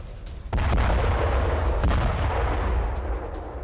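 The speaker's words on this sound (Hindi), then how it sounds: "तेहरान के पश्चिम में भीषण विस्फोट।" Heavy bombing explosions strike western Tehran: a sudden deep boom breaks in, then a sustained roaring, rumbling blast with a second jolt midway, loud and fading slowly.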